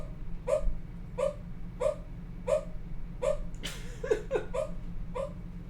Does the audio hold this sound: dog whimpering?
yes